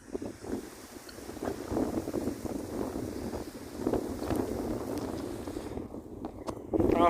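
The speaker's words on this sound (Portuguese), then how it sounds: "Tá ventando demais, galera." Strong wind blows outdoors while a São João bonfire is being built, roaring in gusts across a microphone with rumbling buffeting throughout, and faint voices sound in the background.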